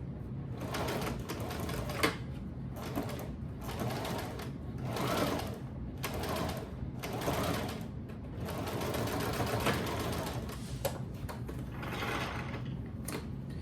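Sewing machine stitching a 5/8-inch seam on a rag tote bag, running in steady bursts of fast mechanical whirring with brief pauses between runs, close and fairly loud.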